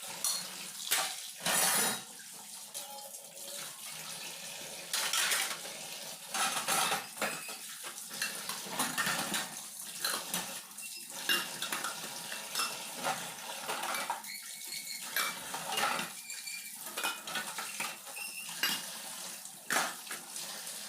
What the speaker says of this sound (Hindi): तो ये सारे बर्तन मैं धो लेती हूँ।